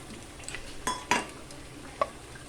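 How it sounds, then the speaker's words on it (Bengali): Spices are poured into hot oil in a pan while cooking egg bhuna, giving a faint sizzle with a few sharp clinks and scrapes of a spoon against the pot. "সেকেন্ড তেল গরম হয়ে গেছে, আমি সব মশলা একসাথে ঢেলে দিলাম"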